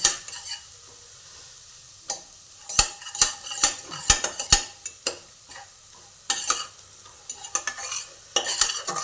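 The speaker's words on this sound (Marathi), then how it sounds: "हे चांगलं मिक्स करून घ्यायचं आपण" Drumstick (shevga) curry mixture is stirred in a pan over gentle sizzling, with sharp, irregular scrapes and clinks of a spoon against the metal close up, coming in clusters with short pauses.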